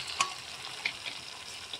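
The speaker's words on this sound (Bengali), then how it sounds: "এরপর এই মশলার মধ্যে আমরা ম্যারিনেট করা মাটনটা দিয়ে দেব" Marinated mutton dropped into a pan of frying masala and stirred, giving a soft steady sizzle with a few quick scraping stir strokes, fairly quiet throughout.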